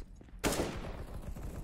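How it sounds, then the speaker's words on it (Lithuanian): Gunfire in a Counter-Strike match erupts suddenly after a quiet moment, a loud dense burst of rapid shots continuing without pause. "Pas mane viršui ir bičia girdžiu šaudo"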